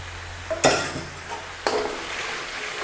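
Chicken rezala cooking in a pan with base gravy, giving a soft steady sizzle with two sharp clatters of stirring against the pan, close by.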